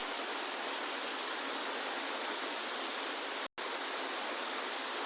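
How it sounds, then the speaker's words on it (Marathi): Water flows constantly at a rocky shrine, a steady, dense rushing hiss close by that continues unbroken apart from one very brief dropout. "सतत पाणी चालू असतं"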